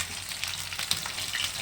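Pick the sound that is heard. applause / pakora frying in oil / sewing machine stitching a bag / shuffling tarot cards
pakora frying in oil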